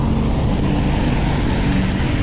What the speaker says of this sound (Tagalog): Buhos ng ulan, oh.